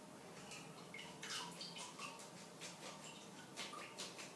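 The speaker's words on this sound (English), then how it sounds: "I just put it through a colander." A cold herbal infusion made from flowering meadow plants trickles and splashes softly through a colander, a quiet, uneven stream of running water with faint drips throughout.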